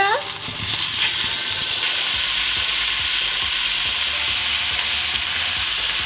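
Vegetables tipped into a hot pan where beef has been browning for a braise, setting off a loud, steady frying hiss that fills the whole stretch with faint scraping underneath.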